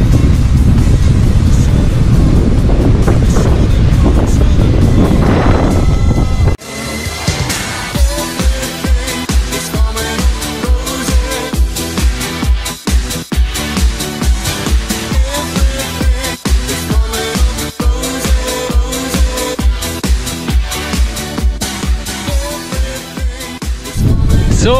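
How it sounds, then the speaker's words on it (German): Strong gusty wind roaring into a microphone held up while riding a road bike through a wine-growing area toward Burg Hoheneck. Loud buffeting comes first, then it drops to a steady, throbbing wind rush with rhythmic pulses. "Ich halte jetzt mal das Mikro in den Wind."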